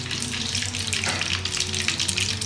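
Mustard seeds sputter and sizzle in hot oil in a pan, a dense, steady crackling hiss heard up close for a couple of seconds with no voices.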